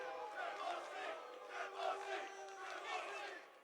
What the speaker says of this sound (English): Can you guys boo me first before I start?